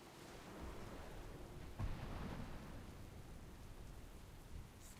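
A faint thunderstorm in World of Warcraft: soft, steady rain hiss with a low rumble of thunder rolling through briefly near the middle.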